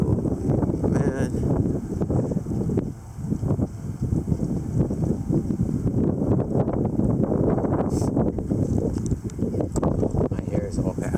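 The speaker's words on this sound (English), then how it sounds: "before the gust sideswipes me again" Strong wind gusts roar into the microphone during a dusty April wind storm, a continuous loud buffeting rumble that dips briefly near the middle then surges again, with a person talking underneath.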